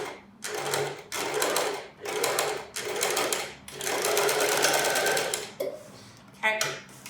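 A domestic sewing machine stitching a concealed zip into a cushion, running in loud close bursts of about a second each with short pauses between, the machine misbehaving, with speech heard near the end.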